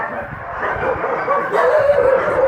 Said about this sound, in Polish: Piesek, który jak tylko mnie widzi z daleka, to mało przez te kraty nie przejdzie.